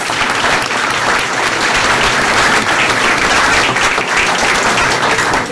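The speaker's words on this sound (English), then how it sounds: "we just want to give one final round of applause for all the students and all the readers" A board of education meeting audience gives a final round of applause for students and readers, loud dense clapping filling the room evenly from start to finish with little talk.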